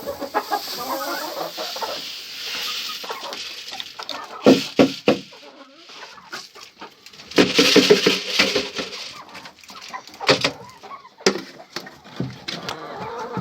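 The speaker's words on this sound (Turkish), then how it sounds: "Bir tane tavuk dışarı kaçtı evet." Chickens cluck nearby in repeated bursts, with quieter clucking and rustling between the louder outbursts.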